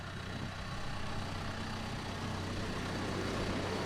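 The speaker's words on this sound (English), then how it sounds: "There's a tractor." Tractor engine passing by, a low rumbling drone at a moderate distance that swells slightly toward the end, heard faintly.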